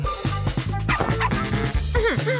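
Lively puppy sounds, short yips and soft whimpering bursts repeating close and loud, as the puppy noses through a pocketed Christmas-tree toy hunting for hidden treats.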